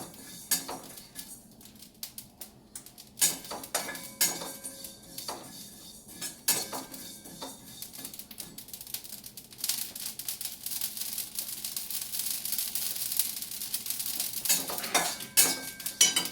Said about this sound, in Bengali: এগুলো না ভাজার সময় একটু আওয়াজ হবে